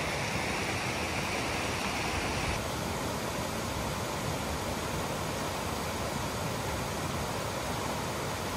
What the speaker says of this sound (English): There are indeed some waterfalls here, so we're gonna go check them out.